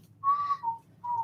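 A person whistles a few sustained notes of the bossa nova tune The Girl from Ipanema, a clear, close melody of three held tones with a short pause, over a faint low background hum.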